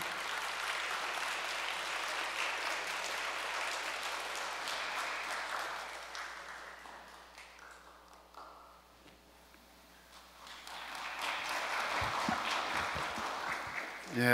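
Audience applause welcomes the chairman onto the stage at a Korean gathering; steady dense clapping fills the room, thins out midway, then swells again before the end.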